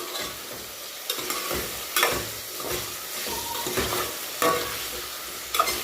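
Tomatoes, onions and potatoes are stirred as they fry in oil for khari bhaat. A steady sizzle runs beneath repeated scraping strokes of a spoon through the pan, close by and without talk.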